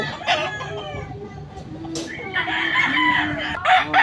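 Roosters crow and chickens cluck at a poultry sale, several close calls overlapping amid a busy, noisy crowd, with people talking in the background.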